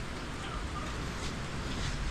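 Steady rain falls outside an open window, a dense, even hiss of drops filling the whole stretch with no pauses and no voices.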